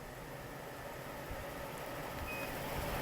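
A shop air filtration system running on low speed, giving a steady, even whir of fan and airflow with a faint tonal hum, continuous and unchanging, with no voices.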